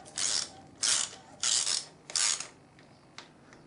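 Four rapid ratcheting bursts as a socket ratchet takes up slack on the clutch cover bolts of a Triumph Tiger 800XC motorcycle, followed by a few faint single clicks, close and alone with no talk.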